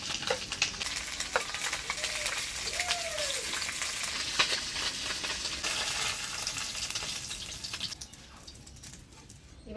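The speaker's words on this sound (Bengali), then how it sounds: "বাজালি মাছগুলো ভাজি নিলাম" Bajali fish fry in a pan in a Bengali village kitchen, with a continuous close hiss and scattered crackles and pops running for several seconds before easing slightly near the end.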